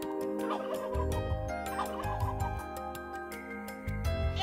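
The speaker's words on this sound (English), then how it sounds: "Out in the open, turkeys strut proudly," Turkeys gobbling in repeated bursts over steady background music, the rattling calls recurring every second or so.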